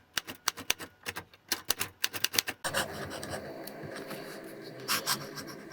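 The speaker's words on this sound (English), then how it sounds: "The last writing sample is done on 20-pound copy paper." Fountain pen writing on 20-pound copy paper, a series of quick close scratchy strokes and taps, followed by a softer continuous rubbing scratch.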